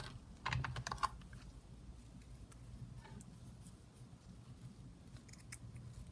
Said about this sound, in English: So I'm just going to cut a piece off.